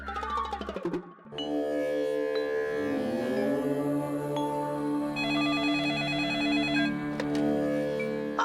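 A telephone rings in a steady electronic warble that carries on for several seconds amid a bright, tonal backdrop, with no voices over it.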